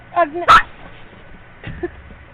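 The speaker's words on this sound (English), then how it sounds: "that's our dog deciding he wants to join in on the interview." An indoor dog interrupts an interview with a few short, close barks and yips, spaced out over a couple of seconds.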